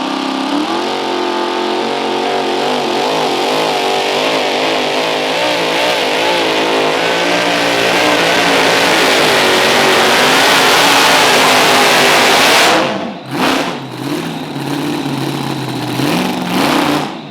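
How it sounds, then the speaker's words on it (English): A supercharged Chevrolet engine with an 871 blower on a mini rod pulling tractor roars loud and close in a sustained, rising rev, then drops off sharply near the end before surging again, with no talk over it. "Chevrolet, but it has an 871 supercharger on top of it"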